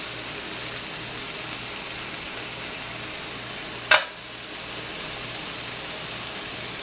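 A sizzling pan hisses steadily, then a teaspoon of apple cider vinegar hits it with a sharp, loud burst of sizzle that quickly settles back into an even, close frying hiss.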